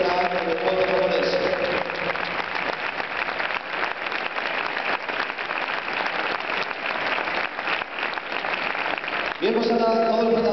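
An audience at a judo festival in Oviedo claps steadily for several seconds, a sustained wash of applause filling a large hall, with someone speaking over a PA at the beginning and again at the end.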